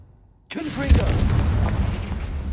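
A Confringo spell explodes in the video game Hogwarts Legacy: a sudden loud boom after near silence, followed by a rumbling, crackling blast tail.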